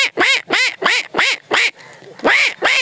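A man imitates a duck with his voice, giving eight loud nasal quacks in a quick regular rhythm, close up with no other sounds.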